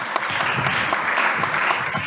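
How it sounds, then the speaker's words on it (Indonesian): A congregation at a church prayer session gives steady, moderately loud applause, a continuous wash of clapping with no talk over it. "Beri tepuk tangan dulu sama Tuhan."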